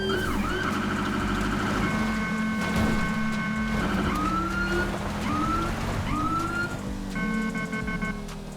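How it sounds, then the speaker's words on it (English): Police car siren in the GTA 5 LSPDFR mod, switching between rising wails and rapid yelp patterns under a continuous loud bed of engine and rain noise. "and then we can activate the lights and sirens"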